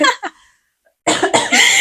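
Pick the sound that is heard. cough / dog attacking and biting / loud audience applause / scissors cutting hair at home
cough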